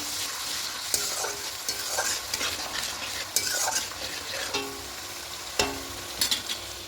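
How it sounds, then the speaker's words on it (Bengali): A mixture for dudh katla, a Bengali katla fish curry in milk, is stirred in a pan with scraping strokes and a steady background sizzle, close and fairly quiet, with sharper clinks at intervals. "খুব ভালো করে মিশিয়ে নেব"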